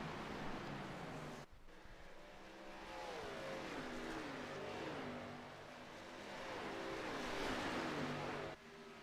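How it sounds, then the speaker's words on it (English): Race cars passing on track in a Xfinity Series Nashville sim racing game, engine tones sweeping down in pitch as cars go by, steady loud roar with a brief cut partway through. "Gillen Water going to go by"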